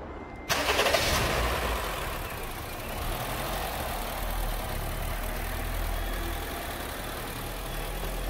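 A Honda City engine cranks and catches after a brief silence, then settles into a steady, even idle that runs on without misfiring.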